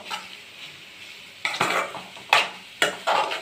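Sliced carrots fry in a pan with a steady background sizzle, while a spoon scrapes and stirs through them in three distinct strokes.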